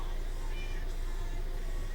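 A pet cat meows indoors, a drawn-out vocal call fairly close and moderately loud over a steady background hum, with no voices.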